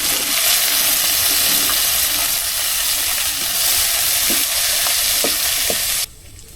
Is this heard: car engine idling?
no